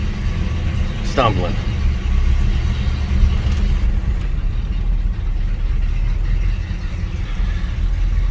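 An '84 Chevy squarebody truck engine with an Edelbrock carburetor idles roughly with a low rumbling drone, steady and close, with a brief voice near the start.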